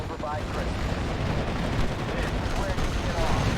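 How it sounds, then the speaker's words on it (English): Dense, continuous automatic fire from .50 caliber machine guns in the WWII strategy game Steel Division: Normandy 44, a loud unbroken rattle of gunfire with artillery-like rumble filling the whole stretch. "it was just a bunch of 50 cals of freedom"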